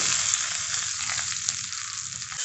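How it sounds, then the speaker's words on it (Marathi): Hot oil and mustard seeds crackle and sizzle steadily as the tempering is poured over fresh coconut chutney, a continuous bright frying hiss with small pops throughout, close and alone without talk. "याला आता तेल आणि मोहरीची फोडणी देऊयात."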